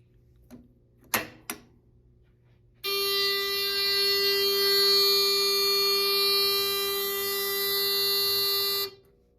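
Simplex 4002 fire alarm control panel sounding its supervisory buzzer as zone 8 goes into a supervisory condition: a steady, loud electronic tone held for about six seconds, preceded by a few sharp clicks and handling knocks.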